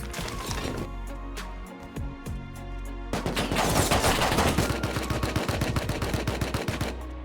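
Rapid automatic AK rifle fire in the survival game Rust, with a sparser stretch of shots at first and then a dense, loud, sustained burst of close gunfire.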